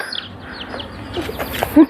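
Chickens kept by a child cluck and chirp nearby in short, scattered calls, with a louder burst of clucking near the end.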